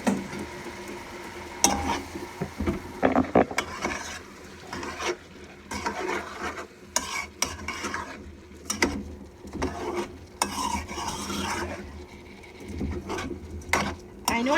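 Brown parboiled rice is stirred into a pelau pot with repeated scraping and rubbing strokes of a spoon against the pot. Soft sizzling runs underneath, and the strokes come in irregular bursts up close.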